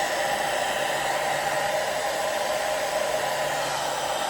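A hair dryer blows steadily on a wig, a constant close airy whoosh with a faint motor whine, running unbroken and alone throughout.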